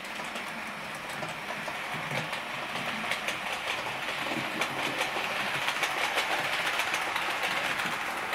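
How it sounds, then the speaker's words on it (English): A Bachmann Class 411 4-CEP four-car EMU model train runs steadily over track points, giving a constant whirring hum with a light, regular clickety-clack of wheels over rail joints. No voices. "This is locomotive pulling."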